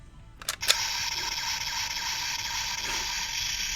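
Kamen Rider Gashat capsule toy playing its Kimewaza finishing-move sound effect: a couple of sharp clicks followed by a long, bright, buzzy electronic tone from a tiny speaker, close up.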